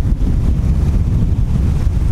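Strong wind buffets the microphone in a constant low roar at an Italian seaside, with the wash of waves blending underneath.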